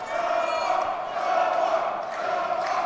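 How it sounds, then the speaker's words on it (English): A crowd at a home college wrestling dual meet between Averett and Greensboro, with a steady roar of voices and cheering at moderate level heard from the arena floor. "Yeah, you can hear it in the crowd."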